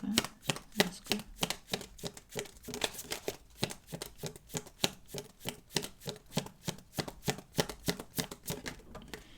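Tarot cards being shuffled, with a steady run of crisp, rapid riffling slaps repeating close up for the whole stretch and no talk.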